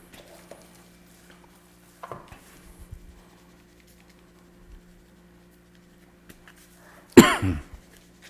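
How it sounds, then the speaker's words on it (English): A person coughs hard while rubbing a garlic jalapeno seasoning into a pork shoulder, one loud, close burst of coughing near the end after a quiet stretch with faint soft handling noises. "And I am coughing away from my pork shoulder."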